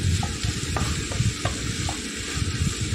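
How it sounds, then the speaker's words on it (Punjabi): Onions frying in oil with cumin and asafoetida while being stirred, a steady close sizzle punctuated by repeated light spoon-on-pan taps and scrapes at an uneven rhythm, no voices. "ਪਿਆਜ਼ਾਂ ਨੂੰ ਚੰਗੀ ਤਰ੍ਹਾਂ ਮਿਕਸ ਕਰ ਲਓ"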